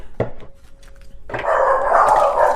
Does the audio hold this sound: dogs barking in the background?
yes